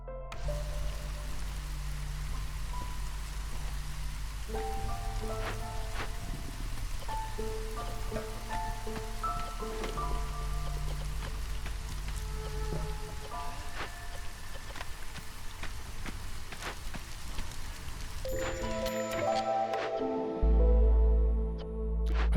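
Steady rain patters on surfaces in the fantasy city-builder Against the Storm, a soft continuous hiss lasting throughout, with gentle musical tones layered over it and a brief low rumble near the end.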